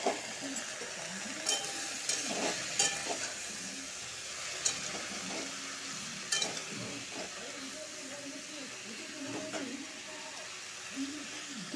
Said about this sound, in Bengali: পেস্টটা ভালো করে ভেজে নিব। এখন তিতা কারেলাটা ঢেলে দিব।